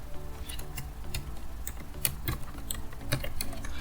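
A password tapped out on a computer keyboard, quick irregular clicks of keys close by, light and continuous with no talk.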